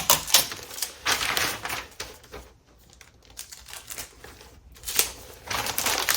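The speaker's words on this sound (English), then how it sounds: "then I'm going to tape it" Packing paper being taped around a vinyl record for shipping: sharp bursts of tape pulling off the roll mixed with crinkling paper, close and fairly loud, with a quieter pause in the middle.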